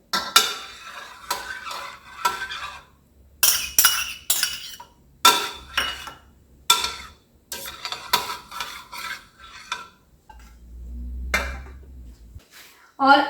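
Curd being stirred with milk in a glass dish, a spoon clinking and scraping against the glass in repeated short bursts, close and fairly clear, with brief pauses between strokes.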